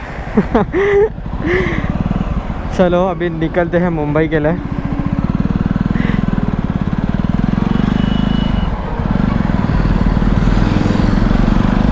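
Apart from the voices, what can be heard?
Jawa 42 motorcycle engine running and riding off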